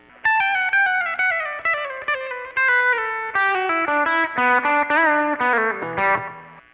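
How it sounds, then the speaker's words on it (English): A quick run of pull-off notes down the neck on an electric guitar, from a solo and played with effects and light distortion. A fast cascade of notes descends steadily for several seconds, clear and close with no voices. "Then comes a very fast little pull-off twiddle run down the neck."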